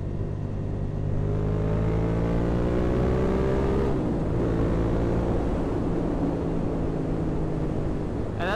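A motorcycle with a newly fitted aftermarket exhaust revving, a deep throaty engine drone with rising and falling pitch sweeps, loud and close, running continuously without talk.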